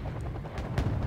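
Tank cannon fire in the PC strategy game Wargame: Airland Battle, with a few dull booms and thuds in quick succession from mid distance, heard alone over a low rumble.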